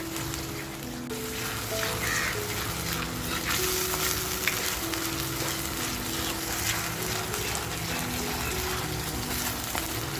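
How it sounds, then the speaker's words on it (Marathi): Black masala for a village-style crab curry fries in a pan, a dense continuous sizzle with steady stirring scrapes and occasional clinks, close and even for the whole stretch. "मस्त आपल्याला हा मसाला आहे ना परतवूनच घ्यायचा आहे"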